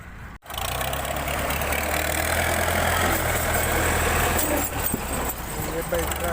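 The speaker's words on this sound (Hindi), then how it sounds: "ये भाई ट्रैक्टर लेकर अब जाने लगे हैं लोग।" A tractor engine chugs steadily at idle on a village lane among fields of mustard greens, a loud, close, continuous low rumble with a brief dip and some rattling near the end, while someone talks over it.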